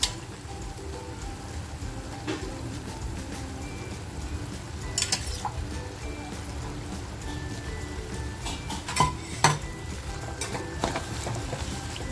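A low, steady sizzle of pressure-cooked tripe (vajri) cooking in a masala pan, with occasional clinks and scrapes of stirring, fairly quiet and close.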